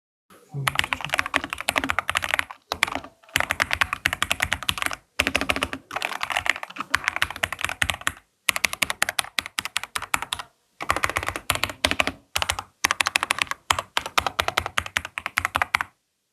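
Rapid bursts of typing on a HATOR Icefall Pro Wireless mechanical keyboard with linear switches and hand-lubed stabilizers, dense clicky keystrokes in runs separated by brief pauses, close and clear.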